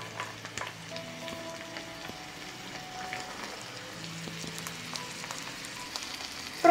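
Chopped onion and celery fry in a pan with a soft, steady sizzle, fairly quiet and close, and occasional light clicks and scrapes as the mixture is stirred. Nobody speaks.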